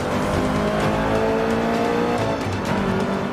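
Race cars in Forza Motorsport 5 roar continuously at full throttle, loud and close, with engine whine shifting in pitch and a hint of tire squeal, no voices.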